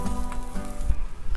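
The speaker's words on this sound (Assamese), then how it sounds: "কেৰাহীত তেল দি অলপ পিঁয়াজ দিছোঁ" Onion and turmeric frying in oil in a wok, a steady close sizzle with crackling throughout, no talking.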